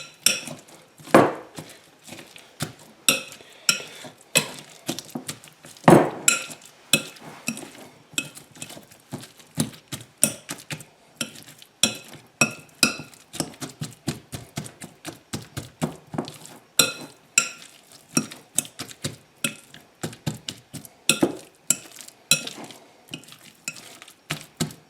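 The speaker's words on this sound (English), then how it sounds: "Now we're going to go ahead and just kind of mix and mash." Potato filling for potato skins being mixed and mashed in a bowl, a long run of close, irregular scraping and tapping strokes of a utensil against the bowl, with occasional louder clinks and no talk.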